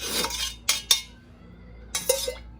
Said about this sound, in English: I put my oil in there and I stir it up